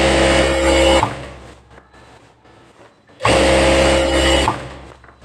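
A sewing machine stitches rubber elastic in two steady motorized runs, each about a second long, with a quiet pause between them.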